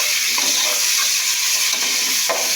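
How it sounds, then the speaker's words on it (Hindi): Garlic and ginger sizzle steadily with onions in a pot for Kabuli pulao, a continuous bright frying hiss with occasional stirring scrapes, close and fairly loud, no voices. "इसको जायका देने के लिए ये लहसुन अदरक डाला है। इसकी करके भुनाई"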